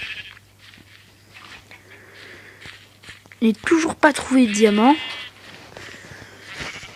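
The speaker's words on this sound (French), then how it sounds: "mais j'ai toujours les bruitages moutons" Sheep bleating in Minecraft Pocket Edition survival mode, a short burst of wavering bleats in the middle alongside footstep sounds, while someone talks in French before and after.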